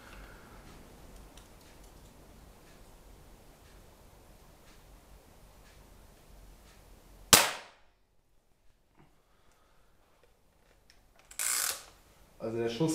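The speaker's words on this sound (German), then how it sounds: "Also der Schuss klingt auch schon ganz anders." A sharp, loud single air rifle shot firing an H&N Diabolo pellet into ballistic gel cracks out of a quiet background, followed by silence, then a second brief burst and a rougher noise near the end.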